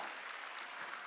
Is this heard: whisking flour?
no